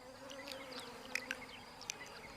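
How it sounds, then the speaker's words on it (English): A tiny Rhopalidia wasp gives a faint, steady buzzing drone, with a few soft ticks over it. "A Rhopalidia wasp is tiny, less than ½ an inch long."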